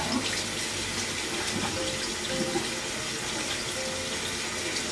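Tap water runs steadily into a kitchen sink while Juncus plant roots are rinsed under it, a continuous close splashing hiss with no talk.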